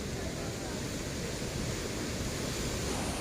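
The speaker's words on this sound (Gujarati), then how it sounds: "ફૂલ દરિયો મોજા મારે છે અત્યારે" Sea waves surging onto the shore make a steady, dense roar of broadband wash, loud and continuous with wind buffeting the microphone, and no talk over it.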